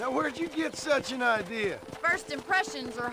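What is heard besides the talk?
No everyday noises stand out.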